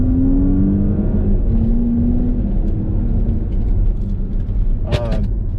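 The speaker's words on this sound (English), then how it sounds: "pin the accelerator, and away we go." Porsche Cayenne, a heavy SUV weighing about 5,349 pounds, launching hard from a standstill with electric boost engaged, its engine droning in a low rising tone that climbs steadily and stays loud throughout.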